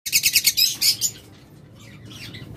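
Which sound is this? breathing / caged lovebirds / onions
caged lovebirds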